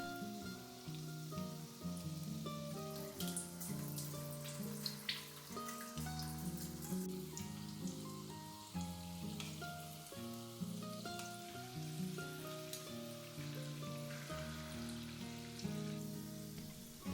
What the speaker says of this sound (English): I will quickly fry the pakodas.